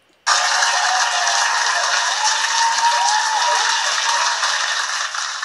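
Audience at a talk on team psychological safety breaks into sudden loud applause that starts sharply and holds steady, a full room of clapping with no voices on top.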